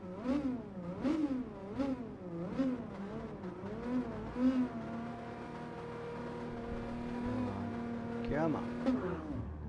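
A race car engine in Gran Turismo Sport revs up and down in repeated rising and falling sweeps, then settles into a sustained drone, with a rev spike near the end. A voice speaks over it at times.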